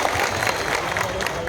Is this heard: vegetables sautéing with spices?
no